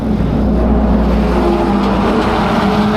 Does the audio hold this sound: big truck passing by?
yes